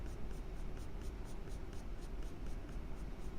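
A graphite pencil lightly shades on paper with a soft, continuous scratchy rasp, quiet and close, with faint rhythmic strokes.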